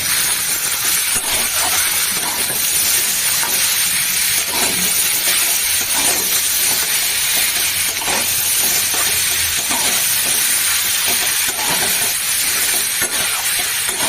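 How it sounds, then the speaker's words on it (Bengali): A torn bay leaf fries in hot oil in a pan as the base for a curry, giving a steady close sizzle and hiss with faint stirring scrapes. "এটাকে ছিঁড়ে দিলাম বন্ধুরা, এর মধ্যে ঢুকে দিলাম। এবার একটু ভাজবো বুঝলে।"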